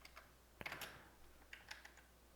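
Keystrokes on a computer keyboard while code is typed, a quiet scatter of light clicks with a brief denser burst in the middle, faint and close with no speech over it.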